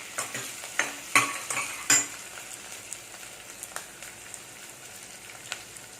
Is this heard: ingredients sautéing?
yes